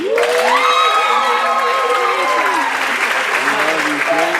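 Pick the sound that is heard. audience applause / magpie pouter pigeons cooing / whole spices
audience applause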